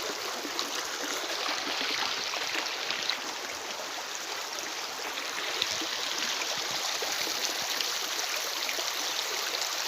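Steady, continuous rush of the Wekel river flowing at low, drought-reduced levels through the countryside, close and even throughout with no voices.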